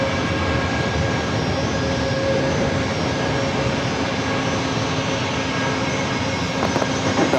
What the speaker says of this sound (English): So the 737 MAX 8 going to be departing first.